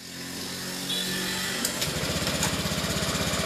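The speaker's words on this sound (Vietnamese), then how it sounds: "Rồi nổ máy." A motorbike engine is started in a repair shop and settles into a steady idle, its rapid, even putter close and loud over a constant background hum.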